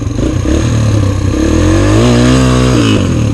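A Kawasaki KX 125 two-stroke dirt bike on a mud trail, its engine loud and close, droning steadily and then revving up with rising pitch before easing back.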